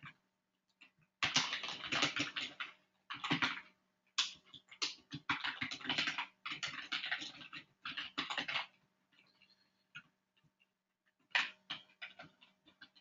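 Keys clatter in bursts of rapid typing on a computer keyboard, close and fairly quiet, with brief pauses between runs and no talking.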